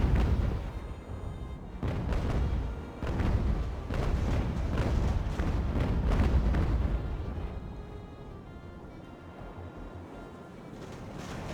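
Age-of-sail warship cannons in Ultimate Admiral: Age of Sail boom in a rapid broadside, several deep heavy blasts rolling over one another for several seconds, then the rumble fades to a low background.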